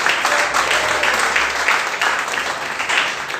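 A church congregation applauds in praise during a Spanish-language service, producing a dense, steady wash of clapping that stays loud and even throughout with no pauses.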